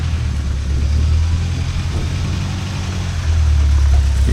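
A rock crawler with a crawler box and manual gearbox grinds along in low gear, its engine giving a loud, steady low rumble that swells slightly near the end.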